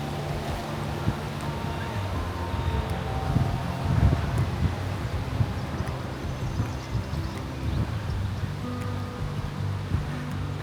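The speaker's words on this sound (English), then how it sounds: "It's windy, a little bit windy." Wind gusts through a well-tended outdoor garden, a broad steady rushing with low buffeting thumps against the microphone, continuous and fairly loud throughout.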